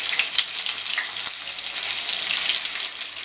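Quail roasting in hot frying oil in a kadai crackles with a dense, bright, continuous sizzle and scattered pops, close and steady throughout.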